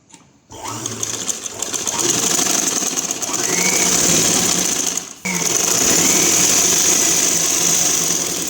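A sewing machine stitches a frock: after a brief quiet start it runs in a loud, rapid mechanical whir, pausing for a split second near the middle before the rattling needle resumes steadily.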